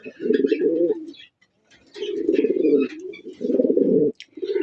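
Pigeons at a breeding loft coo close by in three long, loud bursts with brief pauses between them, soft chirps scattered above.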